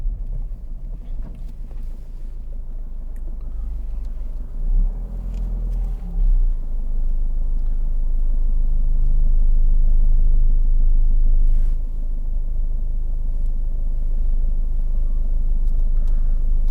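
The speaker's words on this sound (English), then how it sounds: "It's doing about 900 revs in fifth gear, and we're pulling away." A 2014 Ford Fiesta 1.5 TDCi diesel pulling away in fifth gear at about 900 rpm, a steady low engine drone and road rumble with faint wind noise running throughout.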